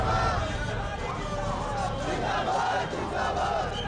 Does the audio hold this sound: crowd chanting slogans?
yes